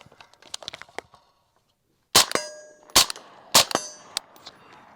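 Three sharp Sig pistol shots strike steel targets, each crack followed by a bright metallic ring that decays quickly; softer clicks and handling noises come before the first shot.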